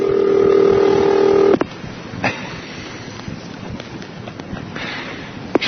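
A home phone number is dialed on air with a steady tone followed by faint clicks and taps over a hissy, noisy line, with no voices.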